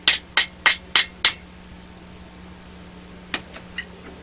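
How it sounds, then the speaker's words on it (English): A ball peen hammer strikes a metal rivet during beginner blacksmithing work: five sharp, ringing metallic blows in quick, even rhythm, then a pause and four lighter, fainter taps, close up with no talk. "you can even take that side and decorate it if you have a ball peen hammer"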